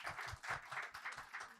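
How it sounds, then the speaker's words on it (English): Faint, distant audience applause at a business event in Mumbai for Team WebEngage, a soft continuous patter of many hands clapping. "can we please have a huge round of applause for Team WebEngage?"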